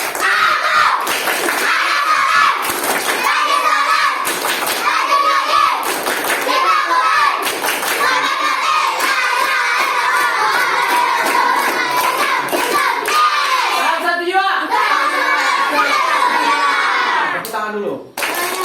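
Children in a Quran school group clap the 'tepuk anak soleh' chant together, loud rhythmic hand claps with shouting young voices and crowd noise throughout, ending with a brief thump.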